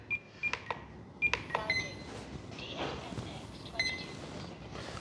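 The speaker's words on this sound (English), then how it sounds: "Now, I need to make sure this stops beeping." RC plane receiver on an FMS P-51 Dago Red 1.1m model beeping during radio binding and setup: several short, clear electronic beeps in a loose irregular pattern at close range, with faint background noise between them.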